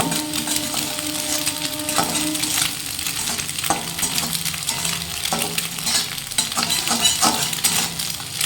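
Eggplant for a Bengali begun bhorta frying in a pan over a very low flame, giving a steady, close sizzle with scraping stirs and light utensil knocks throughout, with no talk.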